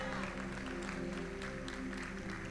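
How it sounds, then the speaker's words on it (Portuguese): Applause from a church congregation at a worship service, a steady wash of many hands clapping with a low musical hum underneath, continuous and moderately loud throughout. "Se é para aplaudir, faça isso de verdade."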